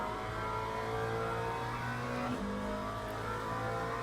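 Race car sliding on the throttle in a wet-weather racing video game, its engine holding a steady loud drone with a brief pitch dip and recovery as the car slides, no talk over it.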